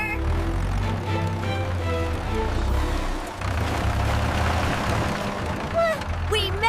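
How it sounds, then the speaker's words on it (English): A cartoon tractor engine rumbles steadily throughout, a low droning motor with a whirring tone, loud and close, while cheerful character voices talk over it and a rising squeak sounds near the end. "Come on, little tractor."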